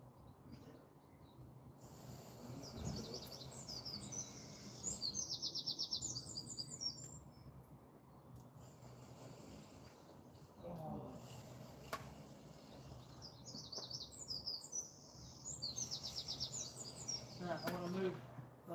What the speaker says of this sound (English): Listen to birds, it's lovely.